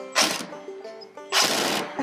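A power drill drives a screw into a pocket hole joint in two loud, close whirring bursts with a short pause between them, and no talk over them.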